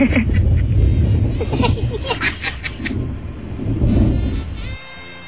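Low rolling rumble of thunder, loud and sustained, with people laughing and chattering over it.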